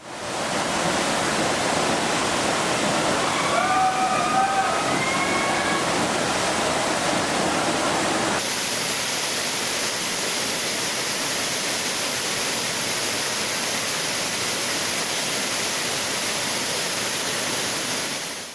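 Monsoon waterfalls pouring into the catchment of Bhandardara dam, a dense continuous rushing roar; faint bird calls cross the first half before the sound shifts to an even hiss.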